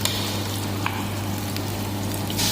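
Ginger garlic paste fries in a pan with golden brown onions, giving a continuous crackling sizzle at moderate volume, with a low hum underneath and a few faint stirring clicks.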